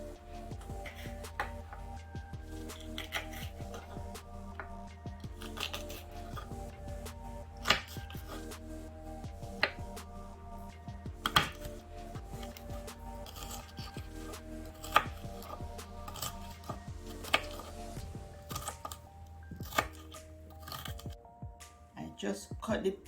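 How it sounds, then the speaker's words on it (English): A kitchen knife chops assorted peppers very fine for Jamaican-style potato salad, producing crisp, irregular taps on a cutting board that continue steadily under a voice and soft background music. "Just cut the peppers small, the assorted pepper, just cut them as small as you can"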